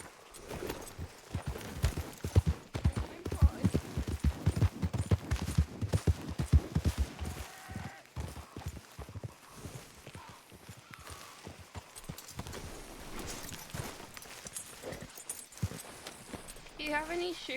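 Horses clip-clop in a Red Dead-style roleplay game, with a dense run of loud hoof beats that slows and fades into lighter, scattered steps, and voices talking over parts of it.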